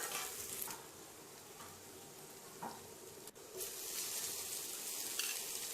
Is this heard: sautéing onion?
yes